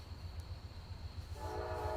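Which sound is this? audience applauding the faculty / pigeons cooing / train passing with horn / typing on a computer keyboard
train passing with horn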